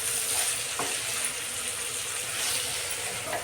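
Garlic frying in hot oil in a pan for a Telugu bitter gourd fry, giving a steady, close, continuous sizzle with a couple of faint stirring scrapes and no talk.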